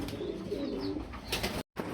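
Large Shorting pigeons coo in soft, rolling murmurs against a busy, noisy background, ending with a brief dropout.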